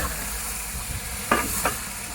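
A pot of village-style biryani ingredients is stirred over a steady sizzling hiss. Two short scraping strokes rise briefly near the end.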